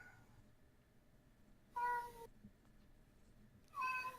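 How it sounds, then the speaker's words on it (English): A pet cat meows twice, loud and close, in an otherwise quiet room. "I hear a kitty."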